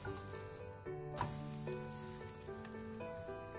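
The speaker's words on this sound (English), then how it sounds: "Let it cook on low flame. The sides will start browning, and that is an indication to flip the potato base." A potato pizza base sizzles quietly in a pan on a tawa over a low flame, with a soft, steady frying hiss that runs unbroken under a faint musical background.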